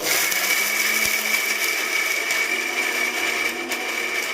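A kitchen mixer grinder blends chicken curry masala paste with salt, a steady loud whirring drone that runs continuously close by with no talk.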